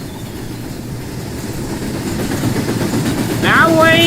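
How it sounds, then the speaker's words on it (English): A CSX train rolls along in the Rolling Line railway simulator, a steady low mechanical rumble throughout that swells slightly toward the end, where a brief higher squeal or whistle-like tone appears. "I'm going to send the CSX train to that direction"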